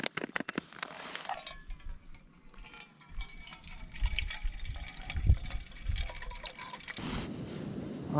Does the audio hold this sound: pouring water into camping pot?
yes